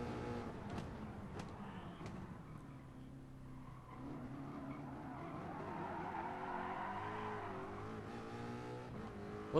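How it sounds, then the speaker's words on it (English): Race car tires squealing and sliding in Gran Turismo Sport, a long continuous skid with wavering pitch over a steady engine drone, close and moderately loud with no talking. "A little bit of sliding."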